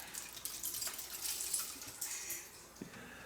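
Coolant drains from an old 1955 Ford F100 step-side pickup that sat in a barn for 38 years, making a quiet, steady trickle and splash with small irregular spatters.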